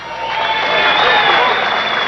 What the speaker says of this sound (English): And a nice round of applause for a real gamer, Steve Mitchell